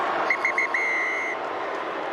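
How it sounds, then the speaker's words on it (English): A referee's whistle ends a rugby match at Forsyth Barr Stadium, Highlanders against Blues. It gives three short toots, then one long blast, heard over a steady crowd roar. "the final whistle has blown here at Forsyth Bar"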